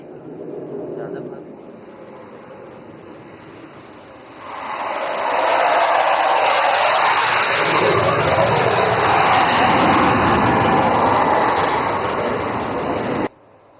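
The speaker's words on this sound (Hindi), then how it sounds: "सुखोई की गरज भी आज सुनाई दी" Indian Air Force fighter jets such as the Rafale and Sukhoi land at an emergency landing facility in Dibrugarh, Assam, a quieter engine hum giving way to a loud, sustained broadband jet roar that holds steady before cutting off abruptly.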